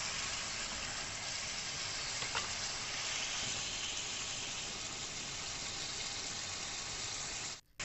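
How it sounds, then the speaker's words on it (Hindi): Chicken frying in a pan with garlic-ginger paste gives off a steady, dense sizzle that holds at an even level and cuts off abruptly at the end. "अब इसके अंदर 1 टेबलस्पून के करीब लहसुन अदरक का पेस्ट डाल देंगे और चिकन के साथ फ्राई करेंगे"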